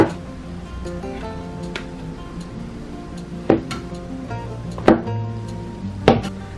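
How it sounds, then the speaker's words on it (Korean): A knife chopping carrot, radish and shiitake mushrooms into large chunks for spicy braised pork ribs: a few sharp, separate chops over soft background music. "당근무, 표고버섯은 먹기 좋은 크기로 썰어줄게요"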